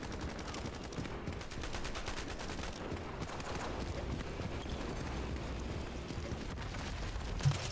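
Rapid gunfire rattles through an Ironsight online shooter match, dense repeated shots forming a continuous clattering burst with a few louder cracks, steady and fairly loud with little talking.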